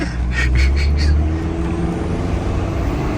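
A loud, low engine rumbling steadily from inside the cab of a 2022 Chevy Silverado pickup, with a brief rising whine early on as it winds up.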